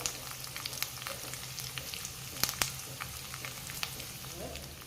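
Red chillies spluttering and crackling in hot oil for tempering a beetroot pachadi, with sharp irregular pops and a couple of loud crackles over a steady close sizzle, no voices.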